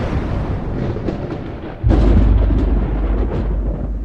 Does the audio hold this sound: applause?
no